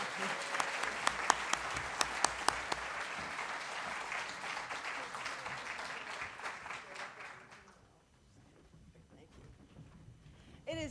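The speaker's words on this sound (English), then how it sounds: "So a final round of applause for all of our master's students." Applause from the audience for master's graduates at a university higher degree ceremony, a steady crowd clapping that runs for several seconds and then fades to near silence.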